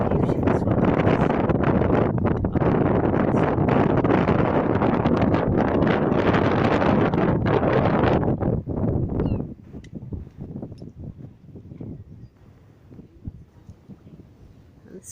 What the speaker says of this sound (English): it's absolutely freezing and blowing a gale